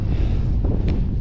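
Strong wind in a mountain valley near Everest roars and buffets the microphone in a constant, heavy rumble, loud and close throughout.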